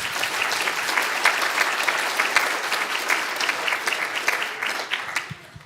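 People at a citizens' assembly give a round of applause, vigorous and close, with many distinct claps forming a full, steady burst that thins and fades out near the end.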